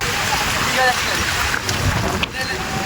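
Sea waves at Digha beach give a steady, close broadband rush with a soft surge near the end. The moment is brief, with no clear talk over it.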